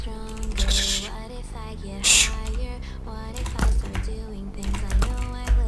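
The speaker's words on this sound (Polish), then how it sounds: "Kto tam napierdala w klawiaturę?" Someone hammering away at a computer keyboard during a Minecraft server session, rapid clacking keystrokes in bursts close to the microphone, under steady talk and game sounds.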